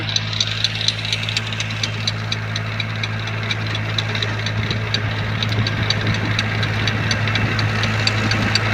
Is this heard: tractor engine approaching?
yes